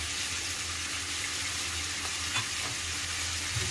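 Mutton fries in a pan with ground paste of ginger, cumin, onion, garlic and dried red chilli, giving a steady, close sizzle and soft stirring scrapes with no talk.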